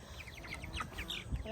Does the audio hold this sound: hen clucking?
yes